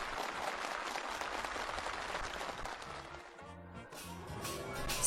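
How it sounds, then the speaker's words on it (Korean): Participants applaud warmly at a rural housing handover ceremony in Gangwon Province as residence permits are presented. The clapping is moderate and sustained, thins partway through, and then music with a steady beat rises underneath. "참가자들의 열렬한 박수 속에"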